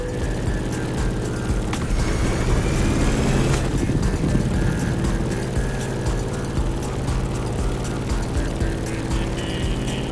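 Airplane engines drone steadily through turbulence in the video game The Crew Motorfest, a dense, continuous roar with scattered clicks and rattles, loud and close, no voices.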